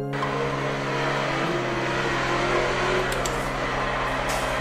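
A Ford GT40 replica runs on the Brest race circuit, its engine roaring loud and continuous from inside the car, with pitch shifts as it changes speed.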